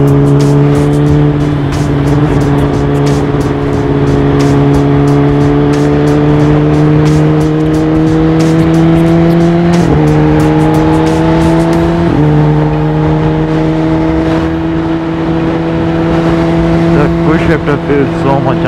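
A motorcycle being ridden, its engine droning loud and close with a steady pitch that drops briefly twice as gears are shifted, then settles again under constant road and wind rumble.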